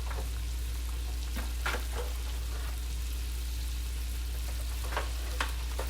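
A breaded onion bloom fries steadily in hot oil, giving a constant close sizzle with scattered pops and crackles throughout, and no voices.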